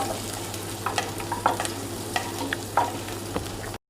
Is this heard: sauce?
yes